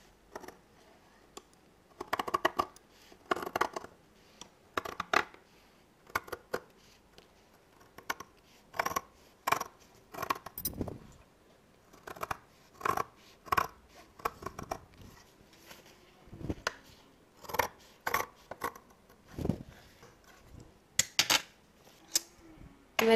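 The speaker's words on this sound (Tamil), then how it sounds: "இப்போ நான் கட் பண்ணி எடுத்துடுறேன்." Scissors snip through dress fabric while a V-neck front neck design is cut out, giving sharp, crisp clicks in irregular runs, close and clear against a quiet room.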